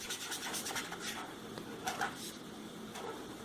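A pen scratches steadily across paper while a figure divided into equal parts is coloured in during a maths lesson, a soft continuous rasp heard close up and alone.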